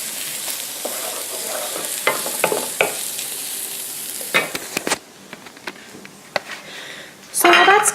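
Carrots sizzle in a hot pan as garlic goes in for a Texas casserole, with a crackling fry, scraping stirs and clatter, then louder spattering at the end.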